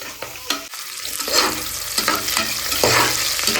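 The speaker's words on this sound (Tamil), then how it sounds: "எல்லாத்தையும் நல்லா வதக்கி விட்டுக்கலாம். மயில கொஞ்ச நேரம் மட்டும் தள்ளி உட்காந்துக்கதாங்க, மேலே தெரிக்கும்." Onions sautéing in a pan for coconut biryani, a steady close crackling sizzle with spoon stirring scrapes across the pan, continuous with no voices.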